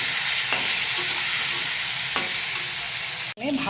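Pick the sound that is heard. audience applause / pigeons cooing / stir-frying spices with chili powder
stir-frying spices with chili powder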